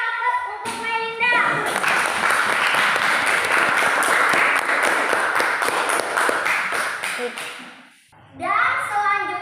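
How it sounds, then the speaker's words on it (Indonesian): A classroom group claps for a student named Melinda, with sustained, dense applause and children's voices mixed in, fading out briefly before a teacher's voice resumes. "Berikan aplaus untuk Melinda."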